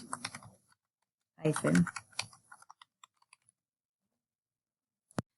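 Email address being typed on a computer keyboard, a few quick, faint key taps and a final sharp click following a short stretch of talk.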